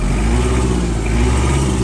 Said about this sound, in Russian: Трактор отлично реагирует на обороты